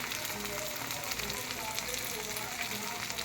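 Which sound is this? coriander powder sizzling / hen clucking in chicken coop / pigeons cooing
coriander powder sizzling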